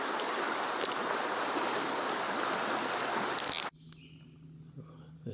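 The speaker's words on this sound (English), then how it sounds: "this is Licking Creek." Licking Creek flowing beside Pectonville Road on the Tuscarora Trail in Pennsylvania, a steady broadband rush of moving water close by that cuts off abruptly near the end, leaving quieter ambience.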